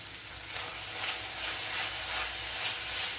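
Fenugreek leaves and peas frying with garam masala give a soft, steady sizzling hiss throughout, fairly quiet and with no voices.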